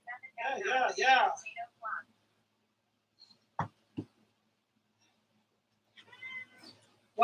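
A cat gives a long, loud meow followed by a shorter one, then goes quiet before a few brief thumps and faint voices at the end.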